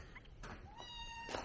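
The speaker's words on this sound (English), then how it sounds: "What you doing, silly cat?" A house cat gives two short, faint meows, the second rising and drawn out, against a steady low background hum near a trailer and bay doors; no one speaks.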